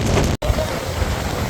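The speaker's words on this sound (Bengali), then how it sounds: "ঢেউ মামা কি যে ঢেউ" Rough sea waves surge and wash continuously along Kuakata beach in stormy, windy weather, a broad roaring noise that cuts out for a moment before resuming.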